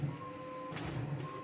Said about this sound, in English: my printer is frantically printing